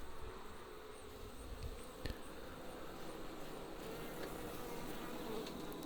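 A steady, dense buzzing of many honey bees in a long Langstroth horizontal hive, continuous and close, with no voices.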